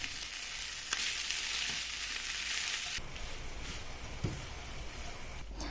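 Cooked millet fried with chili, coriander and cumin powder in a pan, a steady hiss of frying with occasional soft stirring scrapes, close and moderately quiet, no talking.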